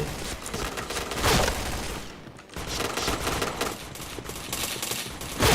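Point Blank game gunfire rattles in sustained rapid bursts, loud and close, with a short lull midway before firing resumes.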